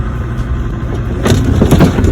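A Land Rover Discovery TD5 diesel engine grinds along through muddy ruts, a steady low rumble that grows louder and rougher partway through as the throttle is opened.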